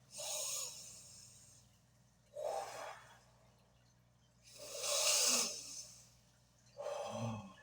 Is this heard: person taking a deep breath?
yes